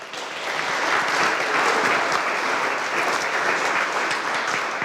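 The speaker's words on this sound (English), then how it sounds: "again, a big round of applause for him." A large audience at a digital art prize presentation applauds prize winners, producing sustained, even clapping that swells quickly and then holds steady and loud with no talk over it.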